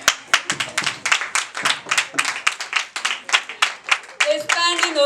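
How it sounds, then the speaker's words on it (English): An audience gives a standing ovation, clapping loudly in a strong rhythmic beat of crisp, close claps that keeps going and ends in a burst of louder cheering voices. "A standing ovation for her. Let's keep clapping, let's keep clapping, let's keep clapping."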